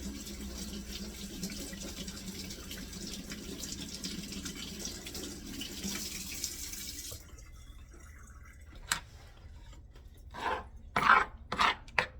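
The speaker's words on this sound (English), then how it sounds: "So let me wash it now." Tap water runs steadily onto a whole pumpkin for about seven seconds, then stops, leaving quiet drips and a few close handling knocks and clunks at a kitchen sink.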